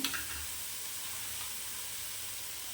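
Spices sizzling as they fry in hot oil for a Tamil-style mutton curry gravy, a steady bright crackling hiss after a brief initial burst, close and continuous.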